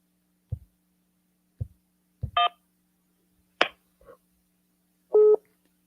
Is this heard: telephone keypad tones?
yes